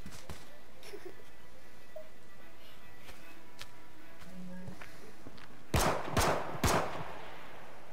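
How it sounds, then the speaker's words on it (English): Gunfire in the survival shooter H1Z1 at Ruby Lake: three loud, sharp shots about half a second apart near the end, after a stretch of quiet ambient game background with faint footsteps. "Is that you shooting?"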